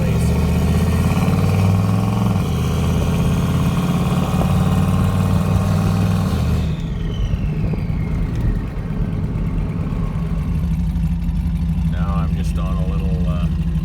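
On a dirt road, a car with a rebuilt 4L60E automatic transmission is driven through its gears. Its engine drones steadily, the pitch steps down as a shift happens midway, and it keeps running evenly after that, with a voice speaking briefly over it.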